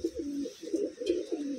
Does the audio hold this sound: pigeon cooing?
yes